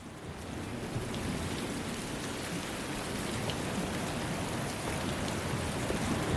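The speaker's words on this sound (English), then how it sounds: "Why is it raining?" Steady rain falls in a video game scene, an even, hissing wash of drops on surfaces that stays constant and moderately quiet, with no voices.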